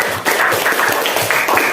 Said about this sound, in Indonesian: Tepuk tangan untuk Rizwati